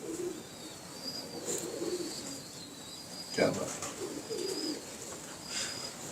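Breeding pigeons coo in a loft, soft repeated calls heard close by alongside men chatting in Hindi-Urdu, with a sharper sound near the middle.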